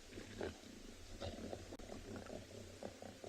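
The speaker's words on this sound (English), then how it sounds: "Just keeping quiet so you can hear them growling at each other." Lions growling at each other on an early-morning safari drive, a low, rumbling growl that rises and falls continuously, distant and faint under steady background noise, with no talk.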